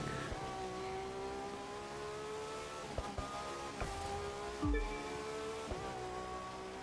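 A steady, droning V12 sports car engine in The Crew 2 hums throughout, holding a high, smooth tone with brief shifts and a swell near the end.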